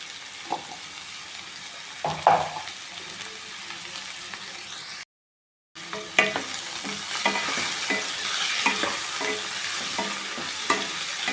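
Snake gourd frying on a medium flame, with a steady sizzle and repeated scraping stirs of a spatula in the pan, interrupted by a short silent gap before the frying and stirring resume.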